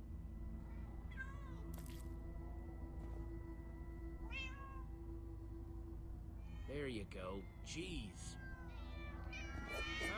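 Several cats meow in the video game Minecraft: Story Mode, with scattered short mews early on and a cluster of overlapping meows near the end, over a low steady background hum while a voice briefly speaks.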